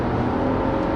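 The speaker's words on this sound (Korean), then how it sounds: "가속을 하는데 엔진 소리가 좀 그렇게" A 2016 Lexus RX450h hybrid SUV accelerating from the cabin, its engine giving a steady, thin, moderately loud drone with no talk over it.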